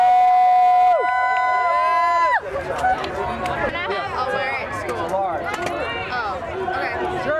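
Protest crowds on both sides of a confrontation over a military recruiting station in Berkeley gather, a dense babble of many voices, shouts and cheers filling the space after a brief loud tonal opening.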